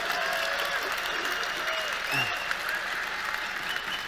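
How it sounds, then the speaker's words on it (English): Steady applause from a large audience, dense and sustained throughout, with a few faint voices mixed in. "I've never heard so many people applaud an evasion of a simple question."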